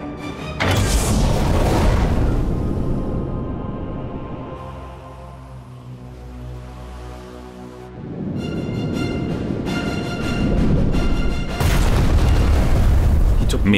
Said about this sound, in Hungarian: Mivel a torpedó egy olajszállítót talált el, hatalmasat robbant.